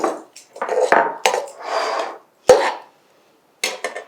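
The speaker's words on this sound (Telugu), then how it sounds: "తర్వాత అందులో బెల్లం వేసుకోవాలి" Jaggery dropped into a metal pan while making Vinayaka Chavithi prasadam, giving a run of close scraping and clattering knocks of utensil against pan, with one sharp clack partway and a brief quiet gap before a few final scrapes.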